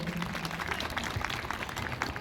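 Applause from an audience at a Z.P. sports and cultural program prize ceremony, a steady dense patter of many hands clapping at moderate distance, fairly faint and continuous throughout.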